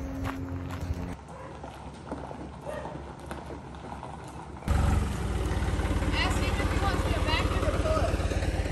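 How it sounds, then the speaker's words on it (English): A farm tractor engine starts up partway through, a sudden loud, steady roar that runs to the end, after a quieter stretch with people talking. "The tractor, the whole tractor is going"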